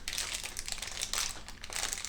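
Loud, continuous crinkling and tearing of a plastic cereal package being opened by hand, with irregular crackly bursts throughout and no talking.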